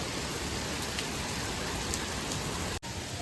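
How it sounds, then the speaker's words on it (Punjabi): Heavy monsoon rain pours down steadily in the morning, a dense, continuous hiss of drops close by with no voices. "ਮੀਂਹ ਦੇਖੋ ਪੂਰੇ ਜ਼ੋਰਾਂ ਤੇ ਪੈ ਰਿਹਾ"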